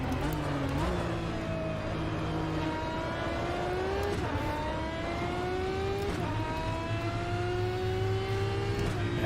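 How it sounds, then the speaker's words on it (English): A Ferrari GT1 race car engine in the Automobilista racing game at Imola revs loudly and continuously, climbing in pitch through several gear changes, close and steady with no talk. "Yeah, car sound is really good."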